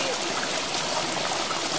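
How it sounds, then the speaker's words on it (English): Water flowing steadily along the Anilao River in Ormoc City, a close, continuous broadband rush and trickle with no breaks and no voices over it. "sound of the water"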